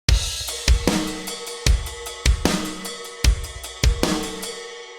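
Kick and snare drums from a MIDI drum program play a steady alternating groove, punchy low kicks trading with bright cracking snare hits, clean and loud with no voices.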